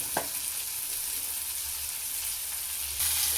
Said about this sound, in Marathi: हे शेंगदाणे सुद्धा आपल्याला याच्यात परतून घ्यायचे